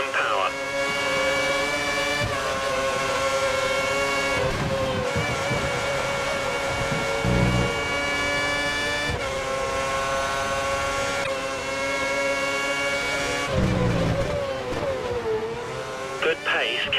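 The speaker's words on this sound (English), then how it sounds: "the car ahead is trying to create a gap. He's running full revs, maximum power." Race car engine held at full revs during an SRO Veteran League race at Great Britain, a loud sustained high-pitched drone with brief dips and surges, accompanied by talk.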